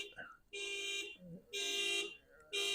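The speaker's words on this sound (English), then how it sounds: "They got the car alarm turned off" A car alarm blares in repeated one-second bursts of a harsh electronic tone, with brief gaps between, while voices talk faintly in the background.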